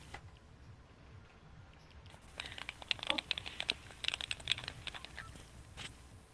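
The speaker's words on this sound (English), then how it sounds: "You guys like my keyboard?" A computer keyboard being typed on, with a run of quick, light clicks and taps in irregular bursts, fairly faint and close against a low background hum; no talking.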